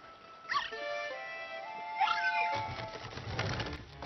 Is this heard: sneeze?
no